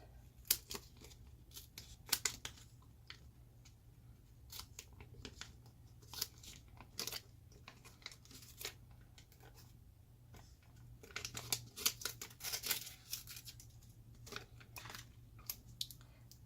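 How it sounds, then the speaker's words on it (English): Paper snips cut around a stamped image on paper, giving many sharp, uneven clicks and snips in short bursts over a quiet low hum, close and fairly faint. "you're going to take your paper snips and you are just going to cut around it"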